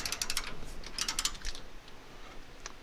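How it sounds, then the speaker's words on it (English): Rapid clicking of an 18mm ratchet working a tight rear shock bolt on a Ford F250 truck, bursts of close, quick ticks with short pauses and a final click, no talking. "Put your 18mm ratchet. Ooh, this one they got tight."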